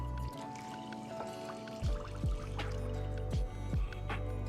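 Water and a can of full-fat coconut milk are poured into a pot, giving a close, steady liquid pour with a few gulping glugs and splashes near the end. No one speaks.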